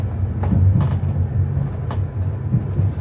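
Inside the Katowice-Rybnik passenger train, a low, steady rumble fills the cabin, broken by a few sharp rattles and clacks from the carriage.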